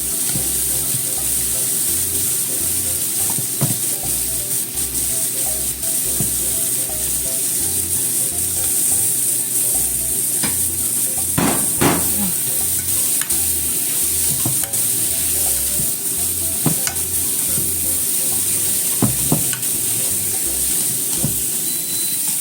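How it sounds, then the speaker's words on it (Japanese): Sliced zucchini sizzles steadily in a frying pan for a simple stir-fry with tomato and egg, with occasional utensil scrapes and stirring clatter over the constant hiss; no one speaks. "ズッキーニもちょっと焼き色をつけてね"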